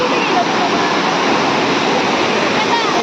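Loud rushing water roars steadily and close up, a constant broadband torrent with no pauses.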